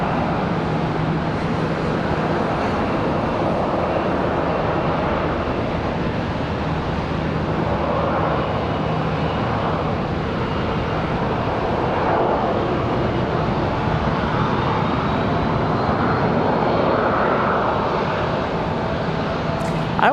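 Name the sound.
Boeing 737 and ERJ jets moving at Charlotte airport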